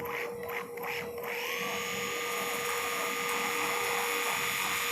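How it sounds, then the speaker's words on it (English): Cannulated drill bit run over a pin during a surgical repair of a fissure in a dog's humerus, a steady high-pitched whine that begins after a few short bursts and holds alone to the end. "And then we run the drill bit right over the pin."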